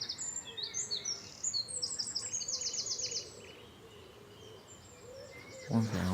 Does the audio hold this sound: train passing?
no